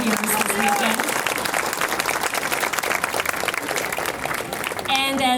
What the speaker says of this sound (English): how about a big round of applause for all the volunteers this weekend